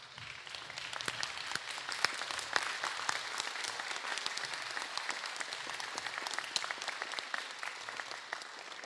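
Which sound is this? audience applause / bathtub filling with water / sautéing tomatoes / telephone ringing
audience applause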